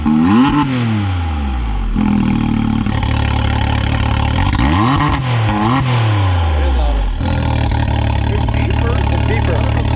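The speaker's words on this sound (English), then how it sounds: "All right, we're gonna start up the X3. Mean Machine's gonna have a new sound." An X3 fitted with an RPM sport muffler and E-valve starts up and revs, the loud engine note rising and falling through several sweeping throttle blips over a steady rumble.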